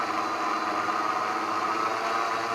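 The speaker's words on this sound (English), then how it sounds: "We're gonna blend it." A blender runs at full speed, blending bone broth with added hot water, giving a continuous loud, steady motor whir with no pauses.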